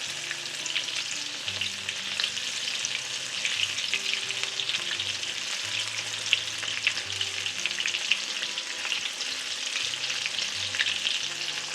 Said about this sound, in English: So as they're cooking, you can go ahead and just put some more peppers in there